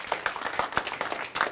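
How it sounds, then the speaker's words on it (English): An audience breaks into applause, a dense patter of many hands clapping at close to moderate distance, steady and fairly loud throughout. "give yourselves a big round of applause"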